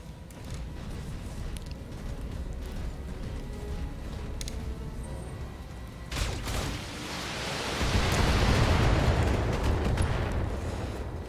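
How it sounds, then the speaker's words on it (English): Explosions rumble in the BattleTech mech combat game, a continuous bed of battlefield noise with a sharper burst midway and then a heavy, roaring blast that swells loudly toward the end. "Like there's like explosions all around"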